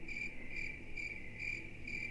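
Crickets chirping outdoors in a steady, evenly spaced pulsing trill, about four bursts per second, faint and alone with no other sounds.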